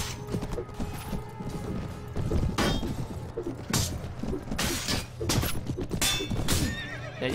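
A horse neighs in the video game Mount & Blade: Warband during a battle, with several loud whinnies breaking out over clattering hooves and thumping combat noise.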